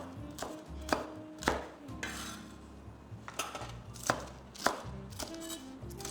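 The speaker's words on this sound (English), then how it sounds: "Give the garlic a rough chop." A knife roughly chopping garlic on a cutting board, quiet rhythmic thuds about every half second with faint scraping in between, close up in a kitchen while preparing a salmon stir fry, with no talking.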